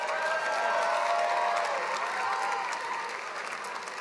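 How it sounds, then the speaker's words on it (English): Audience at a university commencement ceremony breaking into sustained, dense applause with light cheering, a continuous roar of clapping that eases slightly toward the end. "Let's give a round of applause"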